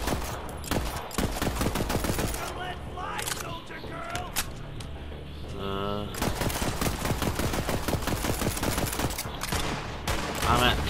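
Pistol gunfire in the video game Borderlands 3: rapid repeated shots in bursts, loud and dense, mixed with game sounds and people talking over it.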